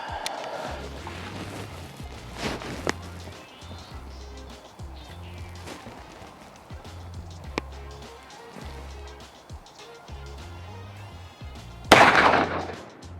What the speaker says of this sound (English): You shooting that bottom right?